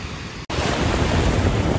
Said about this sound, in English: I got the ocean all to myself right now over here